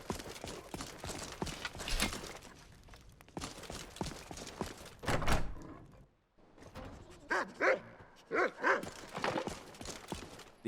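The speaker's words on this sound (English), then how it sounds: "Good dog." A dog in the video game Skyrim gives a few short barks and yips, mixed with hoof clops and ambient game sounds at moderate volume.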